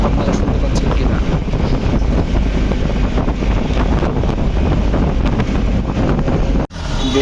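Strong wind buffeting a microphone on a road trip toward Jatrabari, a loud, unbroken low roar that swamps everything, with a brief dropout near the end.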